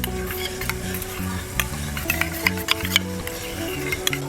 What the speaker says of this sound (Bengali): খুব ভালোভাবে সসগুলো একসাথে মিশিয়ে নেব।